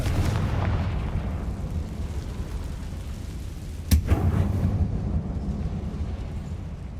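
A Confringo spell explosion in Hogwarts Legacy: one sharp blast cracking out of a low, rumbling game ambience, followed by a short roaring decay, with no talk.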